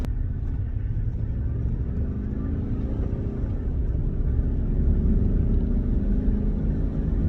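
A 2018 Chevrolet Silverado pickup truck drives up a highway on-ramp, its engine and road noise forming a steady, loud low rumble that swells slightly as the truck accelerates.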